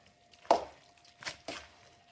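Drained homemade pasta is stirred into sauce, giving a few soft, wet squelching and clacking strokes at irregular intervals, close and quiet, with no one speaking.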